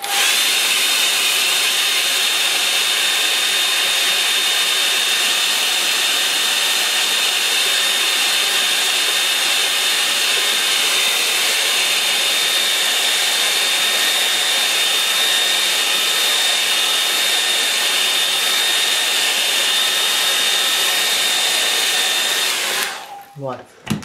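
Hair dryer blowing steadily on a gouache painting of an estuary scene, a loud continuous whine and rush of air held for over twenty seconds before it cuts off near the end.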